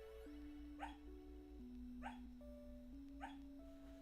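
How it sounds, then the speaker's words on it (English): A sleeping dog whimpers through a dream, giving soft high yips and short whines at a slow repeating pace, close and fairly quiet over a steady background music tone. "My dog is having a very intense dream right now."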